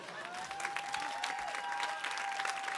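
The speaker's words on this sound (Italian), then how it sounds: "Daniele Rago, fate un altro applauso" An audience at a comedy show applauds steadily throughout, a dense wash of clapping heard at moderate distance, with a faint tone holding beneath it.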